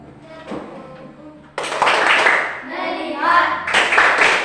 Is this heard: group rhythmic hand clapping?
yes